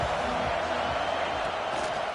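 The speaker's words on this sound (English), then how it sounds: "This crowd ready to make its presence known." A stadium crowd at a football game makes a continuous, broad roar of many voices, holding an even, fairly loud level for a couple of seconds.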